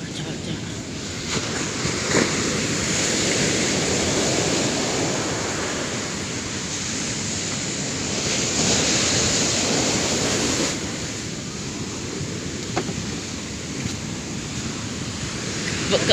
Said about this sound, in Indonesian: Ombaknya gede banget ya